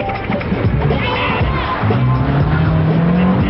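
A Renault Clio with a 2-litre 16-valve engine being driven hard, its engine note droning steadily with rising pitch sweeps as it revs, loud and continuous with a busy background.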